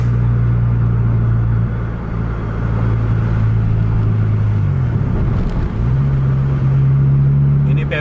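Kurnia bus diesel engine climbing slowly in revs on the road, a steady low drone whose pitch drops briefly then rises again, loud and continuous throughout.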